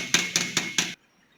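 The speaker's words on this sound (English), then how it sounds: "this anvil is very helpful to straighten the edges with the help of soft hammer" A soft hammer strikes sheet metal edges on an anvil, four evenly spaced ringing metallic blows close up, then silence.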